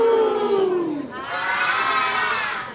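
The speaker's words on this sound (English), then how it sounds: "This half of the audience always goes, ooh." A large theatre audience shouts a drawn-out "ooh" together, a loud collective cry that falls in pitch, followed by a second swell of voices and cheering.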